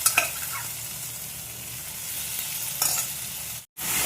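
Boiled pasta and peas being stirred in a pan: a close, continuous scraping and sizzling with a couple of sharper knocks of the spoon, no voices.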